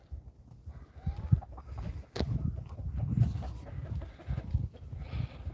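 Chickens clucking on a mountain farm, with short irregular clucks and low muttering calls close by, mixed with scattered outdoor rustling and one sharp knock.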